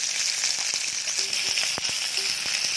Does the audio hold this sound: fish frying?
yes